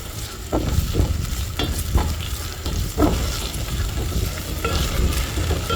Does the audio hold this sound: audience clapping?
no